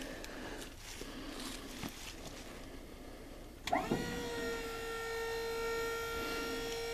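The lift motor on a homemade 2-ton dump trailer built from a 1978 Chevy C20 starts with a clunk and whines steadily as the bed rises, a sustained tonal electric-hydraulic drone.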